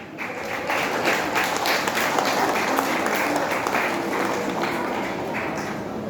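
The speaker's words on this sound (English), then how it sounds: "You can still clap for him despite him being late." An audience claps for a drum kit student receiving a grade certificate; continuous, moderately loud applause from a crowd fills the room, with a voice faintly audible beneath it.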